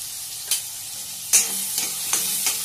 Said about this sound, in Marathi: थोडं परतून घेऊया आपण तेलामध्ये।